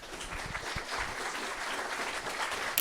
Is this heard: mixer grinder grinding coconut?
no